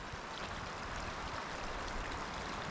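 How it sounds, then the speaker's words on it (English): A creek flowing at a campground beside small pools, a continuous close, full rushing wash of water with no voices over it. "You got the creek right there."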